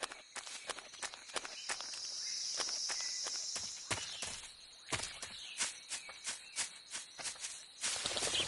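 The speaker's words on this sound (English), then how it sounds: "I hear footsteps." Footsteps in Metal Gear Solid 3, a run of sharp, fairly loud steps spaced through the clip over faint insect-like background chirping.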